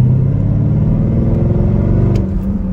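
A Chevrolet Corvette C5 with its LS1 V8 gives a deep, loud rumbling roar under acceleration, heard close up from inside the car, steady and powerful with no talking.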